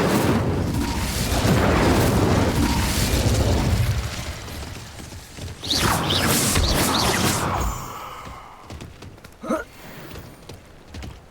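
An Incendio fire spell cast in Hogwarts Legacy, a loud whooshing burst of flame that roars for several seconds, followed by further crackling bursts and a sharp pop before fading.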